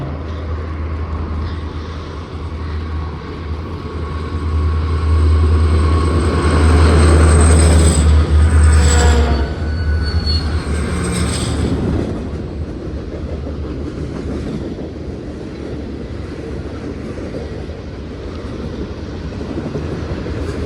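A Utah Railway freight train on Route 611, led by SD50 locomotive 60-62, rumbles past at close range with a deep, loud engine drone that swells to a peak and eases off, along with rolling wheel noise and brief high squeals.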